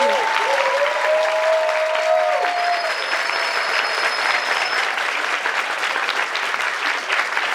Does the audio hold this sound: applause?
yes